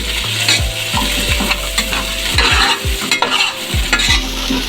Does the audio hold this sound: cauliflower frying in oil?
yes